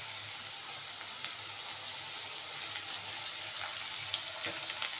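Bottle gourd peel sizzles in a pan as onion and green chilli are added to the fry. The frying hiss is soft and continuous, with a few faint clicks and light stirring scrapes and no talking.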